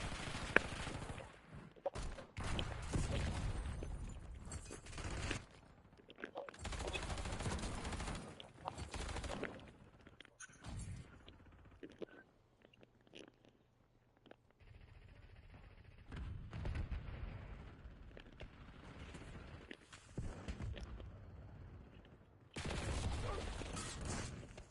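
Call of Duty gunfire comes in repeated loud bursts separated by quieter gaps, with thuds and mechanical clatter mixed in.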